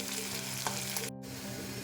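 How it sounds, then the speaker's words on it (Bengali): Onion, chilli and curry leaves frying in hot oil in a wok give a dense, close, continuous sizzle with a brief dropout just after the midpoint. "আমি পেঁয়াজ লঙ্কা আর কারি পাতা যেটা কেটে রেখেছিলাম সেটা দিয়ে দিলাম এটা হালকা একটু ভাজা হলে"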